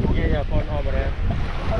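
Waves and wind wash across a beach in Vietnam, with a boat close by, forming a steady, fairly loud ambience over a constant rush of noise, while faint voices murmur underneath.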